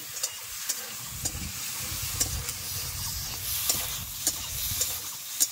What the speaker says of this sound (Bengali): কেটে রাখা ঢেঁড়সগুলো দিয়ে দিচ্ছি। ভালো করে ভেজে নেব।